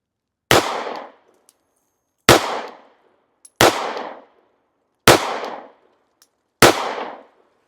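Five loud pistol shots from an S&W Bodyguard 2.0 firing 90 gr XTP ammunition crack out at a slow, uneven pace, each a sharp blast with a short decaying tail and silence between.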